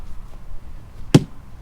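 A knife or blade chops a pumpkin in half outdoors with a single sharp, quick thunk against faint background noise.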